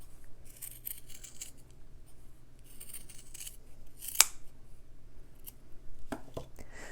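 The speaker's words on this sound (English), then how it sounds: "I'll just go around and cut a thin line, trying to keep it somewhat parallel to that first shape that I cut out" Scissors cutting a thin line through folded fabric for a stitching project, soft repeated snips and rustling up close, with one sharp click partway through and a few louder cuts at the end.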